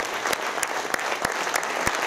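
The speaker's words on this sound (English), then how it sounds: "Big round of applause." A theatre audience applauds steadily after a play, a dense wash of clapping with a few sharper individual claps standing out, continuous throughout.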